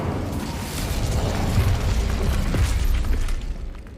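An Incendio fire spell in Hogwarts Legacy roars at a poacher camp, a sustained, heavy, rumbling burst of flame that swells and holds for several seconds, loud and close, with no voices.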